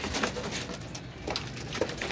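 A loft of caged pigeons, chicks and grown birds together, keeps up a dense, close run of cooing with a few sharper calls, no talk over it.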